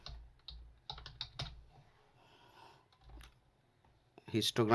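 Typing on a computer keyboard while writing a comment in programming code, heard as close, light key clicks in short bursts that fade in and out, with someone speaking over parts of it.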